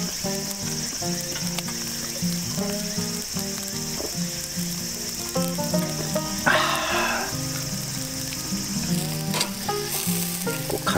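Sea squirt ajillo sizzles steadily in oil in a metal sierra cup at a camp meal, with occasional clinks and scraping of a utensil against the cup over the continuous frying crackle.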